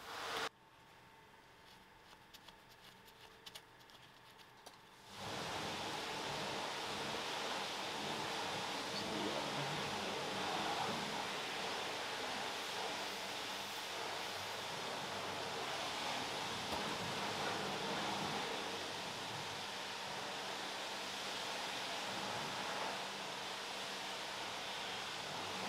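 Old transmission oil drains from the manual M66/M56 gearbox of a Volvo V70 after the 24mm drain bolt is removed, making a steady, close, hissing trickle into a catch pan that runs alone and without a break.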